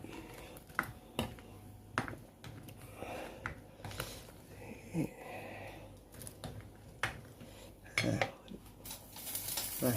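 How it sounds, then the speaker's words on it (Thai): A mushroom curry seasoned with fermented fish sauce is stirred in a pot, with irregular metallic clinks and scrapes of a utensil against the pot and soft background noise between them. "นี่คนให้เข้ากันครับ"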